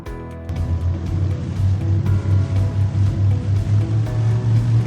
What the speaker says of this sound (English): Turn the steering wheel to starboard side and push forward the gas throttle.